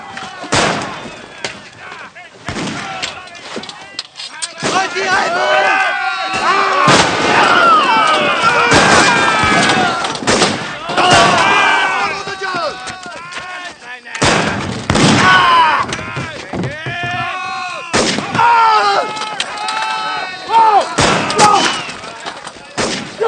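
Gunfire in a battle scene as soldiers shoot, with dense, loud volleys of overlapping musket cracks and bangs that come in waves and brief lulls, mixed with shouting voices.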